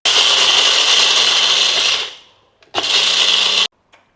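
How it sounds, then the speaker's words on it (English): A blender grinds dry red chillies, pepper, jeera, salt and hing with a loud, harsh whirring roar for about two seconds, winds down, then gives a second short burst of grinding. "So first we will grind all these ingredients, the dry red chillies, pepper and jeera, along with the salt and hing."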